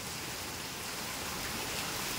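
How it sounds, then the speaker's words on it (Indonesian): Steady, dense first heavy rain of the season in Blitar, Indonesia, hissing continuously, a broad wash of noise with no pauses and no voices. "Hujan pisan deres."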